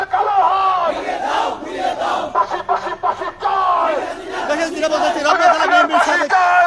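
A crowd at a street protest march chants slogans in loud, rhythmic unison, voices rising and falling in repeated phrases, close and continuous throughout.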